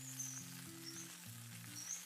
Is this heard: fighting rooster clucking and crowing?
no